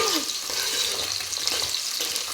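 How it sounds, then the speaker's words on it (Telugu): Pieces of drumstick fry in hot oil in a pan, a constant close sizzle with light bubbling and faint stirring movement throughout. "ఈ ములకాయ ముక్కలు రెండు మూడు నిమిషాల పాటు ఇలా నూనెలో వేగనిద్దామండి చూడండి ములకాయలు అయితే వేగుతున్నాయి కదా"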